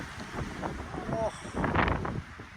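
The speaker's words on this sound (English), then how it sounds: "That wind is a little too much." Strong gusts batter an outdoor microphone while a rider tests a mountain bike in high winds, producing rumbling buffeting bursts with faint voices underneath.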